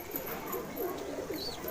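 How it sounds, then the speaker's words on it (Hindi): Ghulam Haidar breed pigeons from Bahraich, soft low cooing set against a faint steady background hum. "तो गुलाम हैदर भाई नस्ल के बहराइच के मशहूर कबूतर"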